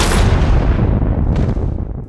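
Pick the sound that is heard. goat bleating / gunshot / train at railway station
gunshot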